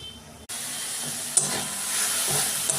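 Onion, tomato, green chilli, cashew and ginger start frying in a pan, a sudden steady sizzle and hiss bursting in after a quiet first half second, with a faint stir or tap partway through and no voices.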